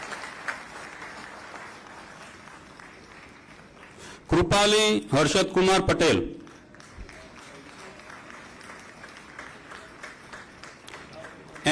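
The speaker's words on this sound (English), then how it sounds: "Keep on clapping, keep on clapping." An audience at a medical college convocation breaks into a burst of applause lasting about two seconds, loud and close, while names are read aloud over a hall microphone before and after it.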